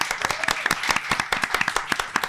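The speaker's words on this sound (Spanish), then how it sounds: "Un aplauso, por favor, para ForLab." A small group claps for ForLab, sharp distinct handclaps in a quick uneven rhythm, close and fairly loud, lasting a couple of seconds.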